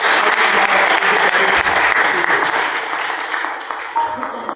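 Steady, dense applause from an audience at a Dr B R Ambedkar birth anniversary celebration in Bedford, loud and continuous throughout, easing slightly toward the end.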